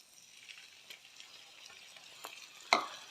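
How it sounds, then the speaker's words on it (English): Garlic ginger paste frying in a pan for a dragon madras curry: a soft, steady sizzle with occasional stirring scrapes and one sharper clatter near the end, no voices. "Cook out the rawness approximately in a minute until the sizzling starts to subside."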